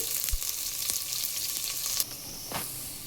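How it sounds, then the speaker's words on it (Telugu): Onions, seeds and dried red chillies fry in hot oil for a tomato meal maker curry, giving a steady close sizzle and crackle with a few faint utensil taps. "తిరుగుమతి గింజలు, ఆనియన్స్ అండ్ ఎండుమిరపకాయలు వేసాను."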